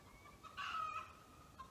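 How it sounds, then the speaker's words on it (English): Faint chicken clucking in the distance, a short burst of hen calls over low outdoor background noise. "we had to get away from those rambunctious chickens"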